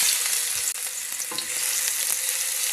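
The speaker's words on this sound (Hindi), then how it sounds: "इसको 2 से 3 मिनट तक अच्छी तरह से फ्राई करेंगे" Ginger garlic paste fries in hot oil in a karahi, a steady broad crackling sizzle with a few soft stirring scrapes near the middle, close and continuous with no voices.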